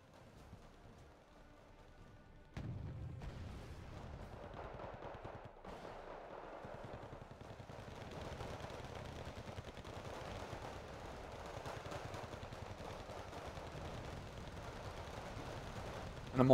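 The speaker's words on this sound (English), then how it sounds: "And the mortar's just going to be pounding away." Mortar and machine gun fire in the Wargame: Red Dragon strategy game, heard as a quiet continuous rattle of distant automatic fire with dull thuds, starting louder after a sharp hit early on.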